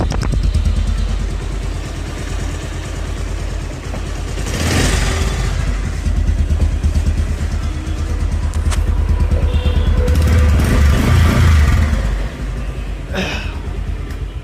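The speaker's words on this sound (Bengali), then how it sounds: "বাইকটা কিন্তু রানিং অবস্থায় আছে। সাউন্ডটা শুনুন।" A used 2023 motorcycle with about 6,643 km on it runs steadily for the whole stretch: a loud, continuous engine rumble with a fast mechanical beat, swelling slightly midway, as if revved gently.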